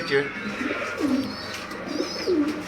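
Sialkoti pigeons cooing for sale, soft repeated rolling coos at close range, fairly quiet, with some chirps mixed in.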